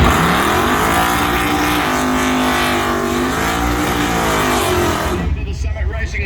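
A drag racing car launches and accelerates hard down the strip at the Spring Nationals at Dragway At The Bend, its loud engine revs sweeping up and down, then cutting off abruptly near the end, with an announcer talking over it.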